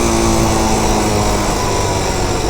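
A Honda Transalp motorcycle engine runs loud and steady up close as gears are shifted up, a continuous buzzing drone with no clear break in the revs.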